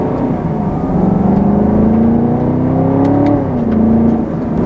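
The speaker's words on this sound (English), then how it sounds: "the popping and farting noises that you get in between shifts on upshifts" A 2020 Chevrolet Camaro 2SS with a 10-speed automatic pulls hard, its loud engine drone climbing steadily in pitch, then dropping briefly at a shift before pulling again. Faint pops come between the gears, and no one speaks.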